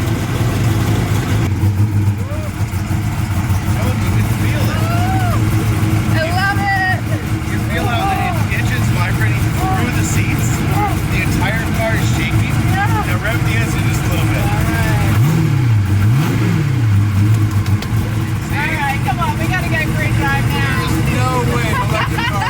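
A 1800 hp Hennessey Venom F5 hypercar revs repeatedly at Velocity 2022, loud and close, with a deep engine rumble rising and falling through several sharp revs while people talk and shout over it.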